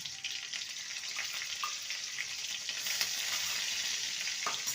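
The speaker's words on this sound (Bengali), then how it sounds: "ফোড়নটাকে ভেজে নেব আর দিয়ে দেবো কাঁচা লঙ্কা কুচি" Whole cumin tempering frying in hot oil with chopped green chillies for a vegetarian Bengali cabbage dish, a continuous moderate sizzle with occasional stirring scrapes and a brief clink, building slightly louder.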